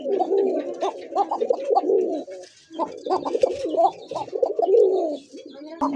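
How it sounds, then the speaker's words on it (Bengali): A male pigeon coos close and loud in repeated throaty rolling phrases, pausing briefly before starting another run of calls. "দেখছেন খুব সুন্দর একটা কাকা কবুতর"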